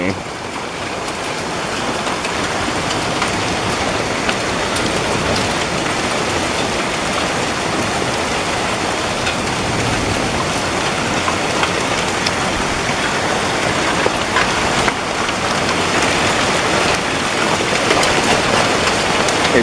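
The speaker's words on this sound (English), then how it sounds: "It's absolutely pouring outside." Heavy rain pours down during a severe, windy thunderstorm, a dense and steady hiss of drops hitting surfaces that runs without a break from start to finish, with a faint voice here and there.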